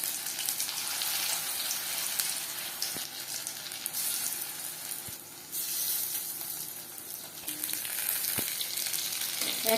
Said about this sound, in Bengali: হাই ফ্লেমে ভাজা যাবেন না, পকোড়া উপরে ভাজা হয়ে যাবে কিন্তু ভেতরে কাঁচা থাকবার সম্ভাবনা থাকতে পারে।